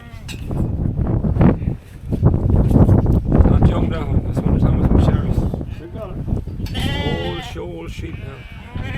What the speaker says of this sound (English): Old sheep now.